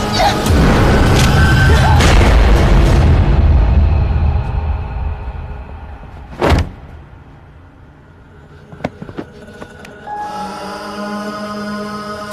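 A single gunshot in a Cantonese-language TV crime drama scene rings out as one sharp, loud crack partway through, after a dense wash of sound dies down, followed by a few quieter clicks and knocks.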